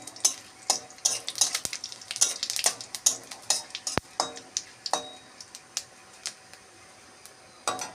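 Dry red chilli, bay leaf and cumin seeds frying in hot oil as a tempering, with steady crackling sizzle and a run of sharp close pops and spatters, a couple of louder utensil knocks, no voices.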